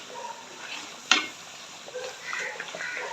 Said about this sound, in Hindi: तमाम मसालों को अच्छे से भून लें।